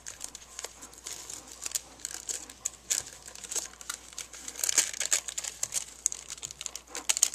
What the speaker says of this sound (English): I'm going to take all the protective paper